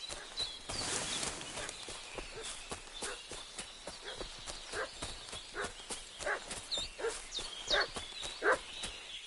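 A dog barks and yelps repeatedly in Kingdom Come: Deliverance 2, the short sharp calls coming at an uneven pace over hoofbeats and outdoor noise.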